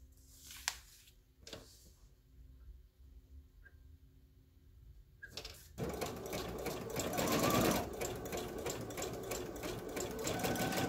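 Sewing machine stitching along paper with a lengthened stitch, a steady loud rapid mechanical whirring that starts after several soft taps and handling clicks and runs continuously to the end.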